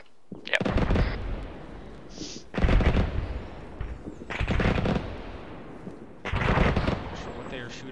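Artillery fire mission rounds in the ARMA 3 military game, four heavy booming bursts spaced a couple of seconds apart, loud and rumbling, with faint radio-style voices between them.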